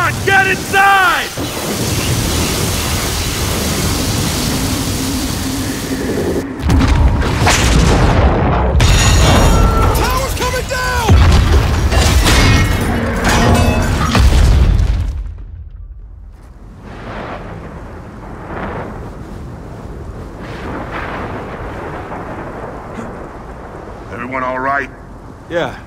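Storm wall thunder in the video game Gears of War 4, heavy booming rumbles and crashing bursts with rain and wind for about fifteen seconds, then fading to quieter ambience with brief voices and effects.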